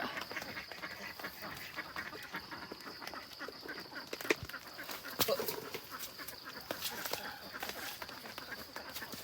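Ducks quack now and then against a steady outdoor background in a garden, faint and somewhat distant, with a few sharp knocks and muffled voices.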